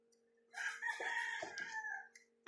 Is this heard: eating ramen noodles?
no